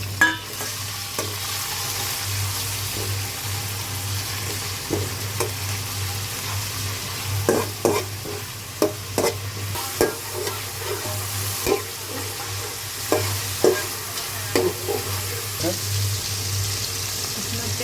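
Chicken with chopped ginger sizzles in a pan while a spatula repeatedly scrapes and clacks against the metal in uneven bursts, over a low steady hum, with a voice speaking now and then.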